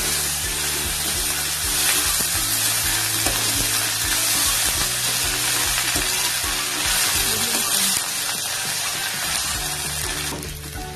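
Drumstick leaves sautéing on a low flame in a pan, a steady close sizzle with a continuous hum and occasional soft stirring scrapes throughout.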